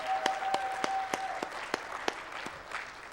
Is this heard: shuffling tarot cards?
no